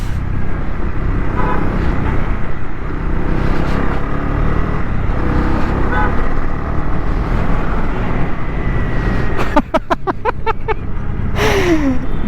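A 2022 Honda CB300R BS6 motorcycle riding on a road, its engine droning steadily under heavy wind rush, with a brief burst of rapid gear-shift revving near the end.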